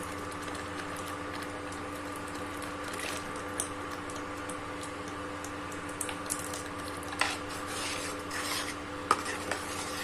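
Tomato puree cooking with masala in a pan for black chana gravy, a soft continuous sizzle under a steady hum, with spoon scrapes and stirring clinks growing more frequent toward the end.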